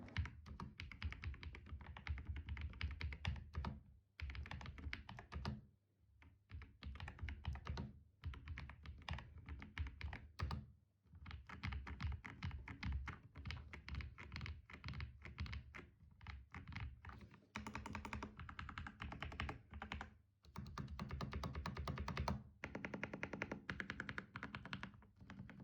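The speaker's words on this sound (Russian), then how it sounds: "давайте послушаем тайпинг" Close, steady typing on an Attack Shark M86 hot-swap mechanical keyboard: dense, rapid thocky keystrokes run continuously for about 25 seconds, broken only by a few short pauses.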